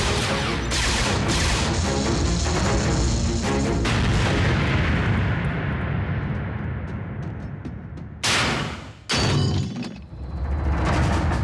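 Loud, heavy explosions and crashing booms in an animated Transformers Prime episode, a dense rumbling barrage with a few sharp blasts near the end.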